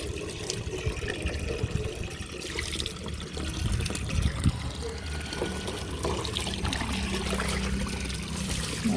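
Water runs and splashes steadily while a shoe is being washed, a continuous close hiss of flowing liquid with people talking over it.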